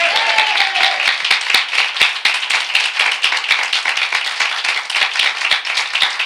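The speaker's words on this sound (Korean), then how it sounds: "우리 하나님께 박수로 영광을 돌리겠습니다" A church congregation claps steadily, many hands beating in a brisk, slightly uneven rhythm that fills the space without pause.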